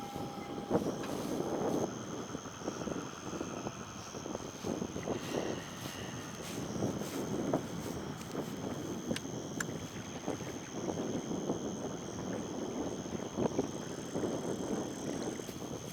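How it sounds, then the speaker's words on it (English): Strong hurricane wind blowing outdoors at a fishing spot, a continuous roaring rush with gusting buffets against the microphone, loud and unbroken for the full length. "I don't know if y'all can hear me in this wind"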